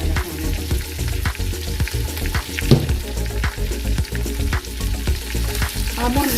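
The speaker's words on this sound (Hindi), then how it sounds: "अब हम इसे अच्छी तरीके से भून लेंगे" Two kilograms of mutton with salt sizzle loudly in a pot for mutton kunna, with a continuous close crackle broken by repeated scraping and clattering as the meat is stirred.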